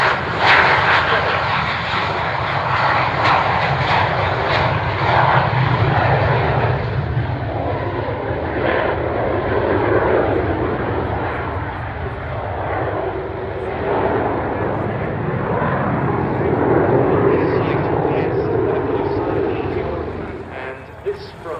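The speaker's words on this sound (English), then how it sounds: "here it is then on the roll, the Aerobatic Classic Flight and the Classic Aircraft" Classic aircraft of the Aerobatic Classic Flight performing a display, a loud, steady engine drone sweeping past at an air show, with a commentator talking over it throughout.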